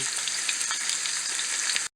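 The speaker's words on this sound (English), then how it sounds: "listen to that sizzle" Stir fry sizzles steadily in a hot pan, a bright crackling hiss that holds constant, then cuts off abruptly at the end.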